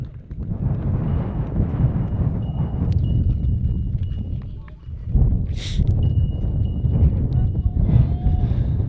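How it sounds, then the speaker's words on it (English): Strong wind buffets the microphone at a baseball field, a heavy, low rumbling roar that surges and dips throughout, with faint, muffled sounds mixed in. "The wind is very prominent here at Ron Patch Memorial Field"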